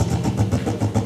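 A stage play features a motorcycle engine effect, a mid-pitched chugging rumble pulsing rapidly and steadily, loud and close, in a very short burst.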